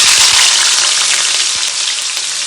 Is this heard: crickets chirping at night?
no